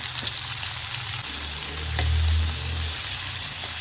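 Two medium onions, cut into slices, fry in a hot pan with a steady, close sizzle that swells briefly in the middle, then settles back to an even crackle with no voices.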